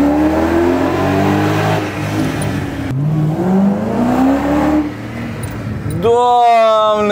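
A BMW 7 Series with a new exhaust accelerating hard: a loud, sustained engine roar that rises in pitch in two long pulls, then a sharper high revving whine near the end, with a voice talking over it.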